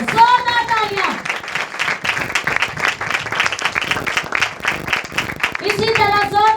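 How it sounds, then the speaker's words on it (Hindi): A church congregation at a Hindi-Urdu worship service breaks into loud, sustained applause between the pastor's spoken lines, with his voice heard at the start and end over the clapping. "जोरदार तालियां"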